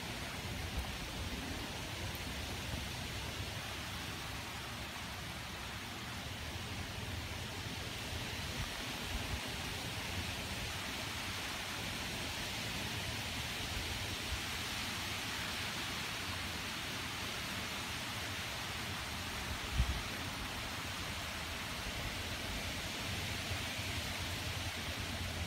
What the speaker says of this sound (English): Ooh, windy. Really windy right now. Look at all that rain